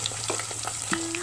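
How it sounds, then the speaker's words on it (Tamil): Sliced small shallots with cinnamon, cloves, cardamom and stone flower fry in oil with curry leaves, giving a steady close sizzle with faint stirring and no voices. "ஏலக்காய், கல்பாசி நல்லா வதக்கிக்கோங்க."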